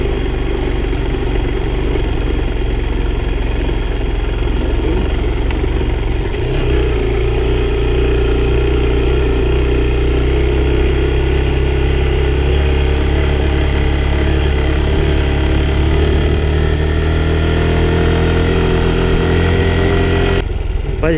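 A Honda Bros motorcycle engine runs steadily and loudly nearby on a rural dirt road, a constant throbbing drone with a slight pitch shift partway through, with faint voices underneath.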